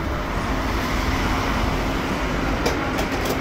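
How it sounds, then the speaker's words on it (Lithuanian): A train at a railway station bound for central Cádiz gives a dense, steady rumble throughout, with a few sharp clicks near the end. "iki Kadiso centro važiuosime traukiniu"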